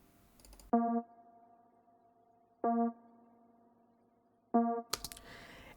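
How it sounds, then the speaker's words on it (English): Three short synth stabs, each a bright sustained chord hit spaced about two seconds apart, with a brief burst of noise at the end. "the next element was the synthy stab"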